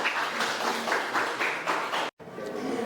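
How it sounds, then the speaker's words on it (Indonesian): Applause for a school student performer at a 2024 language-month event, a medium-loud patter of clapping in uneven surges, briefly dropping out near the end before resuming. "Tepuk tangan buat 10-2"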